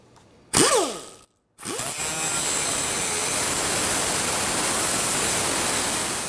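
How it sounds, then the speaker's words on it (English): A power tool cuts rusted bolt heads off the exhaust pipe of a 2006-2013 Chevy Impala. Two loud whining bursts with falling pitch sweeps come first, separated by a brief silence, then a sustained harsh grinding roar fills the rest. "we're going to go ahead and cut the heads off of the bolts here"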